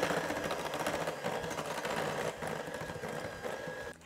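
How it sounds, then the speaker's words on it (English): An electric hand mixer creaming butter and sugar for cookie dough, a steady close buzzing whir running continuously, easing slightly toward the end, with no talking. "You're going to need an electric mixer, or you can definitely use a stand mixer if you have one."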